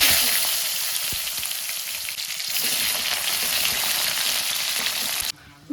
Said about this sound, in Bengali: এবার ফোড়নে দেব শুকনো লঙ্কা দারচিনি লবঙ্গ তেজপাতা আর পেঁয়াজ